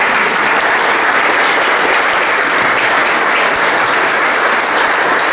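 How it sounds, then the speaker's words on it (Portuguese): Dense, sustained applause fills a church gathering for a Saint Joseph celebration, a crowd clapping loudly and continuously with no breaks or voices standing out. "Acolher a todos com uma salva de palmas."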